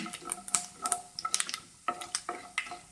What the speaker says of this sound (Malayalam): എണ്ണ ചൂടായി വന്നിട്ടുണ്ട്. ഇതിലേക്ക് 1/2 ടീസ്പൂൺ കടുക് പൊട്ടിക്കാം.